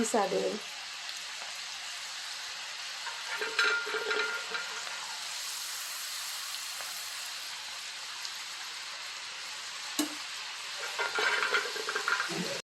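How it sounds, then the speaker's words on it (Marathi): Lentils fry in hot oil with a soft, constant hiss and sizzle, joined by a few brief stirring scrapes near the start, in the middle and toward the end. "गरम तेलामध्येच डाळ शेवटपर्यंत फ्राय करायची"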